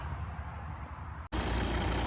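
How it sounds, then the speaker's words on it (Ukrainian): A Volvo V60 engine starting: a steady low rumble, then a brief cut in sound, followed by a louder, fuller running note that continues to the end. "А зараз заведу двигун, покажу вам підкапотний простір."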